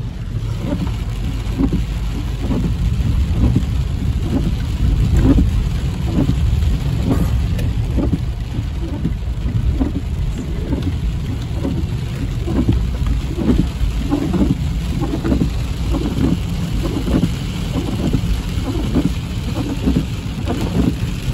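Heavy thunderstorm over Big Bear, California: dense, steady downpour roars continuously for the whole stretch, with low rolling rumbles of thunder swelling beneath it and no voices.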